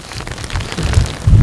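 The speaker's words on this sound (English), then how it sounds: "It's raining right now." Rain falling outdoors at a makeshift blind during a Kansas whitetail deer hunt, a short burst of dense patter with low gusty rumble swelling toward the end.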